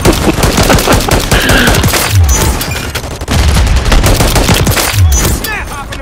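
Dense bursts of rapid automatic gunfire in a Call of Duty match, loud and close with booming shots piling over each other and continuing almost without pause.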